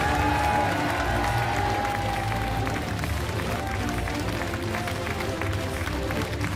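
A studio audience on the French TV game show Les 12 Coups de Midi applauds a winner with loud, sustained clapping and some cheering that fills the whole stretch, with faint music underneath.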